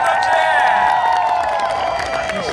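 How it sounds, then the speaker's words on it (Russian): An audience at a fire show during a theatre festival in Perm claps and cheers loudly, with high whoops and shouts riding over dense crowd noise throughout. "Давайте дать аплодисменты. Громче, громче, громче!"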